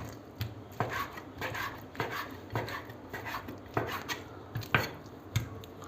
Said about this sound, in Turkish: Domates, soğan, biber, tavuk etimizi de küçük küçük doğruyoruz.